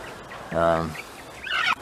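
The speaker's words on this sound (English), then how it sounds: "And now there's a mother bantam hen with just a couple." A small bantam hen gives a brief, throaty clucking call, close by, followed by a short higher squawk.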